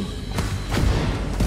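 A frag grenade going off in The Division 2 co-op firefight, heard as a few dull, heavy thuds and booms over a dense, rumbling low-end wash, with no voices.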